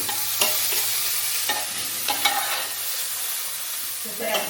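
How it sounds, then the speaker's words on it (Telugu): Onions frying in an Amway wok, a constant close sizzle with several scraping stirs of a spoon against the pan, no voices. "ఇవి జస్ట్ ఫ్రై అయ్యే వరకు వెయిట్ చేద్దాం ఈ ఆనియన్స్ అనేది మనం జస్ట్ కలుపుకున్నామండి"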